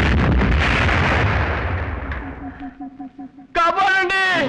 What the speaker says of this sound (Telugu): కాసేపట్లో పేలుతుంది అందరం వెళ్ళిపోండి అయ్యో బాంబు పేలుతుందంటాయా